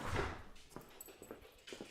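A puppy gives a brief soft whimper indoors, faint and close, followed by light scattered taps and shuffling.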